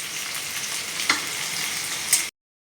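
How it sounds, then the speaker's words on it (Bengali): Bottle gourd frying in a pan gives a steady, close sizzle with a couple of brief stirring clinks, then cuts off abruptly. No voices are heard. "আজ কদ্দু ভাজবো"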